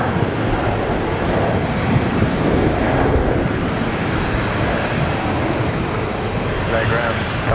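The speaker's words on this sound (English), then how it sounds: "Another Velocity 73. It's touching down." A Velocity Boeing 737 airliner touches down on landing with a broad, steady roar of engine and runway noise at moderate distance, and voices talk over it throughout.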